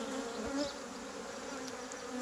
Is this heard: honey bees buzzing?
yes